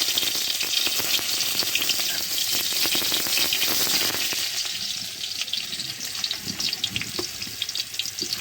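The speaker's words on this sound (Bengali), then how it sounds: "পার্শে মাছ ভেজে রাখছি" Parshe fish fry in hot oil, a dense, loud, continuous crackle and spatter that eases slightly partway through into sharper, scattered pops.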